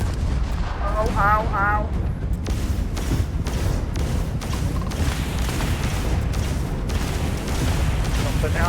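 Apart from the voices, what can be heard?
gunfire in Starfield video game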